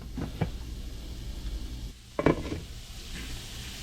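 Fish fillets caught on a beach fry gently in butter in a pan, a soft steady sizzle with a few scraping clatters of a utensil against the pan, close and alone.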